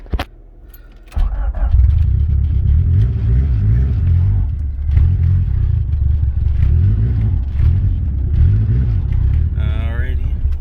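Turbocharged Honda Integra engine idling roughly after two years sitting, running low on fuel; a loud, steady close-up rumble with some uneven surging and clatter, and a brief scraping squeal near the end.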